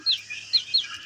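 Young chickens in a backyard give three short, high chirping clucks spaced across about a second, close and fairly clear over a faint low hum.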